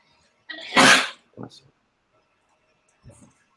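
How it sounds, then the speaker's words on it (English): One loud, sharp sneeze close by, followed by a short quieter sniff and a faint trailing sound after a pause. "A lot of sneezes."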